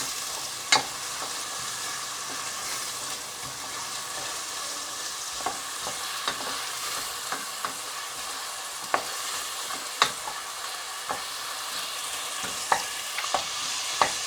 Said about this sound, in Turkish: Biraz dişe gelir şekilde kavuracağız